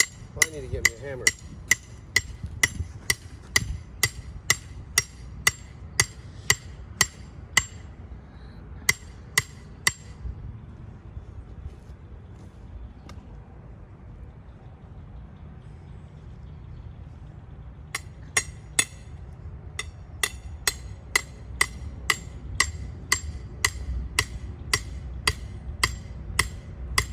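A hammer strikes a garden trellis panel set up for tomatoes and cucumbers, sharp metallic taps in quick bursts, then a quiet pause before another run of rapid blows.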